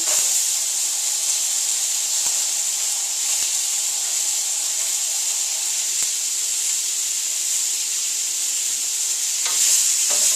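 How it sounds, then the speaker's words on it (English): Lamb pieces stir-fried with chillies in a pan, loud constant sizzle and hiss with occasional scraping as the meat is moved around, close and steady, no talking. "I'm just going to stir fry it a little bit. We want to keep it moving around the pan."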